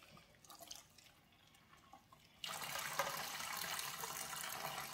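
Hot water gushes steadily from a household tap, starting abruptly midway after a quieter stretch of small drips and handling noises, then running as a constant close, bright rush to the end.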